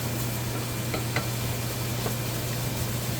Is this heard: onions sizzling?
yes